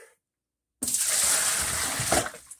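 Water gushes out in a steady pour after a brief silence, a loud continuous splashing stream that tapers off near the end.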